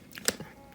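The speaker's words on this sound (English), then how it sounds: "Sorry if y'all hear me chewing." Gum chewing close to the mic, a few soft wet bites and a sharper click in a quiet room.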